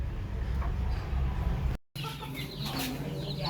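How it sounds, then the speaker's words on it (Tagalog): J-series chickens and chicks fill a coop with steady clucking and thin peeping calls, fairly close and continuous apart from a momentary dropout, with no one speaking. "Meron din pala tayong sisiw dito na J-series."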